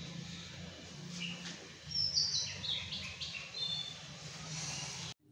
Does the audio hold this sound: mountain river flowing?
no